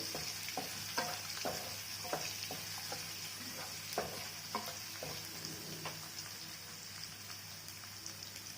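Onions fry in a pan for Guntur gongura chutney, a steady soft sizzle broken by repeated scraping stir strokes, close and moderately quiet with no talking.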